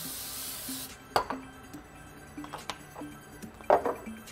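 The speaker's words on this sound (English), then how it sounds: "we're gonna give this some Pam cooking spray" Pam cooking spray hisses in a short burst onto a cooking surface, followed by several light clinks and taps of glass and metal utensils nearby.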